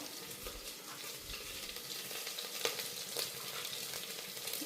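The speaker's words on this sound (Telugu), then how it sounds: "ఉల్లిపాయ వేసి ఉల్లిపాయ గోల్డెన్ బ్రౌన్ కలర్ వచ్చేంత వరకు వేగించాలి." Chopped onion, green chillies and curry leaves fry in hot oil for bagara rice, a steady close sizzle with soft stirring scrapes and no talking.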